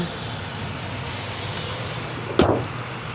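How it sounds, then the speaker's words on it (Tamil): A 2024 Hyundai Exter petrol car's engine idles smoothly, a steady, low, quiet hum throughout, with a single brief click or thump near the end. "இன்ஜின் நாய்ஸ் கேளுங்க எவ்வளோ ஸ்மூத்தாக இருக்குன்னு"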